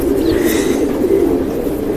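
Silver breed pigeons cooing up close, a continuous low throaty warble that carries steadily through the whole moment without pause.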